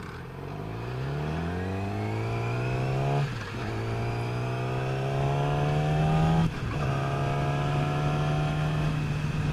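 Motorcycle ridden on a hot summer day, its engine rising in pitch through the gears with two brief shifts, steady and close throughout, no talking.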